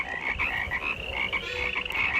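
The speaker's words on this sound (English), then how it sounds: "I'm going mad from their croaking." Frogs croak as a staged sound effect in a radio-style Bible drama about the plague on Pharaoh's court, a dense, continuous chorus of overlapping croaks at steady loudness with no talk.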